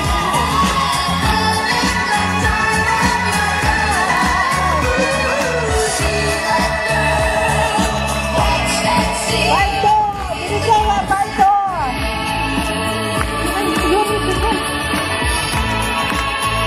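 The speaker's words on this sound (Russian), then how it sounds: "Аплодисменты." Audience at a fashion show clapping and cheering, a steady wash of applause and crowd noise, loud and continuous, with voices calling out through it.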